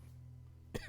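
A single short, close cough from a person after a quiet background hum, loud and abrupt, with a faint trailing sound after it.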